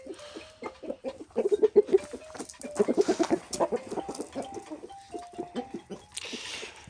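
A pied rooster of a large breed that grows to about 4.5 kg clucks close by, loud and clear. Its calls come as quick, rhythmic bursts of repeated, pitched clucks over several seconds, with faint farmyard noise behind.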